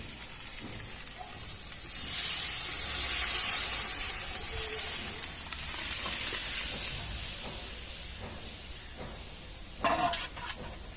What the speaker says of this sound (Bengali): মশলাটা কষানো হয়ে গেছে আমি এবার ডালটা ঢেলে দিচ্ছি